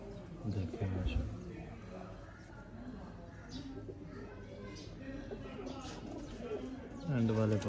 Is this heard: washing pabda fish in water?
no